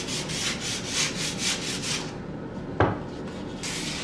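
Sanding a wooden picture frame finished with polyurethane: steady rhythmic back-and-forth rubbing strokes, close and fairly loud, with a brief knock partway through before the rasping resumes.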